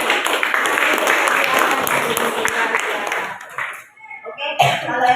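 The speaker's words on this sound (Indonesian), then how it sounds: "Beri aplaus dulu buat semuanya." A classroom breaks into loud, sustained clapping and applause that fades out after a few seconds, followed by scattered light sounds and faint voices.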